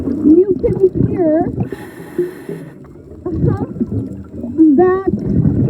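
A whale vocalizes during a night dive, rising and falling tonal calls heard through water alongside bubbling, gurgling breath noise and a burst of hiss.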